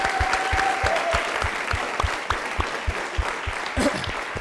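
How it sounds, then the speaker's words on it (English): Studio audience at a late-night show breaks into applause, a full crowd clapping steadily with a few louder claps standing out, a brief voice heard early on. "So I just want to give a round of applause for Kev."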